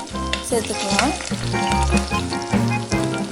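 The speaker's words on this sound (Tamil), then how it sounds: "இது நல்லா ஒரு 5 மினிட்ஸ் வதக்கிக்கலாம்." Tomato, garlic and ginger sauté in a hot pan with a loud, steady sizzle and crackle, broken by stirring scrapes; a voice speaks briefly over it.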